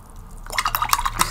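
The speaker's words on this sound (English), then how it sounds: "I just rinse it in my dirty water." A paintbrush swished and rinsed in a jar of dirty watercolour water, a quiet start followed by a second of close, small watery splashes and drips with no talk.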